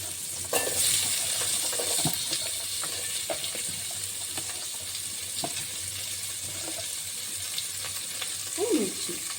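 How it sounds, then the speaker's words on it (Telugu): Onions and tomatoes frying for vegetable pulav, a steady sizzle with scattered stirring and clinks of a spoon against the pan, fairly quiet and continuous with no talk over it. "ఆనియన్స్, టొమాటో వేస్తున్నాను."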